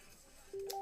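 A mobile phone gives a short electronic alert partway through: a brief steady tone followed by a quick higher beep, faint and close, over quiet room tone.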